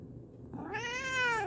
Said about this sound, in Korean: 김강이 행복하다면 야옹해